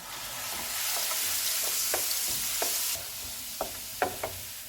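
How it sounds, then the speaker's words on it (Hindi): Loud, steady sizzling of ginger garlic paste frying in hot oil, easing off midway, with several distinct stirring knocks from a spoon against the pan. "इसको भी 30 सेकंड तक फ्राई करेंगे।"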